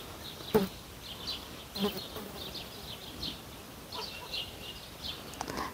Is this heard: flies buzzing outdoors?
yes